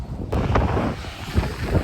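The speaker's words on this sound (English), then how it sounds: "just at the beach. It's a bit windy." Wind gusting at a beach, a steady broadband roar buffeting the microphone close up, with low rumbling surges and the faint wash of surf beneath for the whole short stretch.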